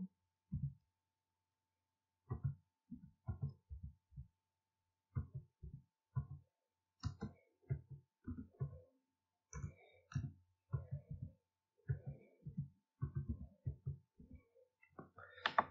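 The word hello being typed on a computer keyboard in a quiet room, heard as a string of soft, close, irregular key clicks spread across the whole stretch.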